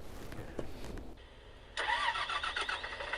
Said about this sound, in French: Bus GX 427, curseur 8, 380 chevaux, t'entends là?